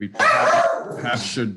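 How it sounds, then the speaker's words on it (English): A dog barks and yips indoors during a committee of adjustment meeting, a few short sharp barks close by and partly overlapping someone speaking. "pardon the dog"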